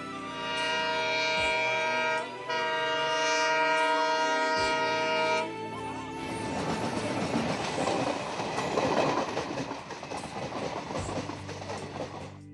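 A train pulling away from a platform sounds a long, sustained horn, then gives way to a rising, rattling clatter of wheels and cars rolling off.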